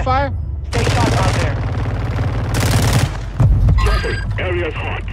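Rapid shotgun and automatic gunfire bursts in a Call of Duty Warzone match, loud and close, with players talking excitedly over the shooting.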